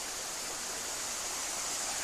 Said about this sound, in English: And down there is the Moormans River, North Fork.